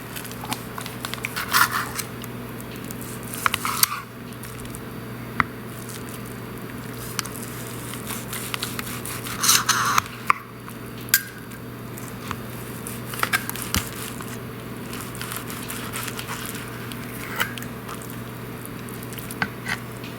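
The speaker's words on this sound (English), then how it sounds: "I'm about to start and slice this steak real quick" A knife slicing a cooked steak on the bias for a sandwich, producing soft, moist squishing cuts in irregular bursts with occasional sharper taps on the board, close and fairly quiet.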